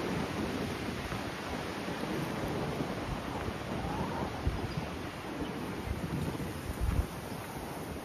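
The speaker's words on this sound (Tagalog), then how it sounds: "Ang hangin, ha? Sobrang hangin." Strong wind blows steadily across the microphone outdoors at an urban park near water, a continuous broadband rush that stays loud and even throughout with no talk.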